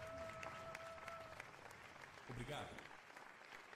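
A crowd applauds in a cutscene from an early 3D Spider-Man video game, steady clapping that carries on beneath a voice speaking a short line.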